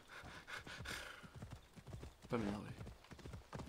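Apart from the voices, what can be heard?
horse hooves and neigh in Assassin's Creed Odyssey video game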